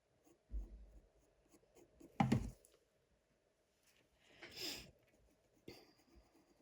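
Coloured pencil on paper being turned and worked at the tip, giving soft scratchy strokes and a few brief rubbing bursts, faint and close, separated by quiet gaps.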